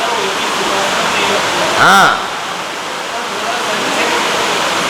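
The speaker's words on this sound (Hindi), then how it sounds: "पानी बरस रहा है।" Rain pours steadily outdoors, a loud dense hiss that runs throughout, broken by a short tonal whine near the middle.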